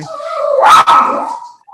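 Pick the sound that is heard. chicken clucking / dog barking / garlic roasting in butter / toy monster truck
dog barking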